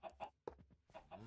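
Minecraft chickens clucking in a run of short, close, repeated calls, several bursts in quick succession with a brief pause in the middle, with no talking.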